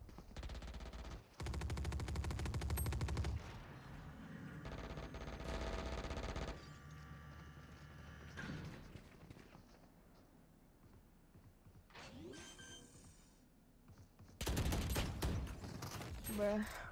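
Heavy automatic gunfire from the tactical shooter Valorant, loud sustained bursts that open the scene and return near the end, with quieter mechanical clicks and game effects in between.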